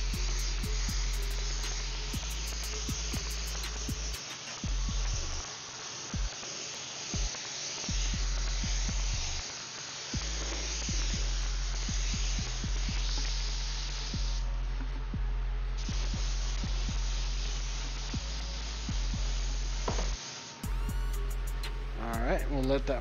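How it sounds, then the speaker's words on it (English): A push-pull air extraction system runs steadily in an airbrush booth, a continuous low hum with broadband rushing air, with occasional short bursts of spray and people talking over it. "Our push-pull system of air is actually like really good. Sucks out the overspray pretty quick."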